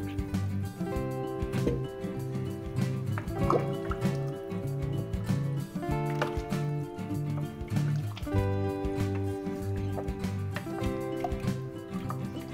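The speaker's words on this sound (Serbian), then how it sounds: "Sad dodajemo još pola litra vode." Half a litre of water is poured into a pot of red soup with eggs in a few bursts, splashing and gurgling as it fills, close up with music playing underneath.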